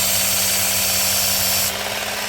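Work Sharp Ken Onion sharpener running with a steady motor hum and belt hiss during a pass on a knife edge at the 65 setting, close up, with the tone shifting near the end.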